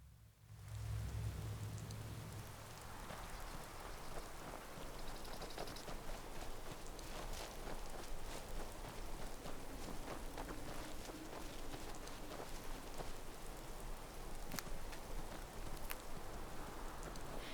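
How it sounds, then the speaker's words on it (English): Steady rain pours across an outdoor scene in Skyrim, a dense continuous hiss of drops on the ground with scattered louder taps throughout, no voices. "Oh, it's raining."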